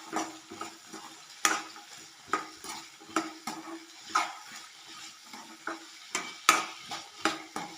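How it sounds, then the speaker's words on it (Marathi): Masala with chutney being stirred in a pan, rhythmic soft scraping strokes repeating about every half second with a faint sizzle between them. "हलवून घेते।"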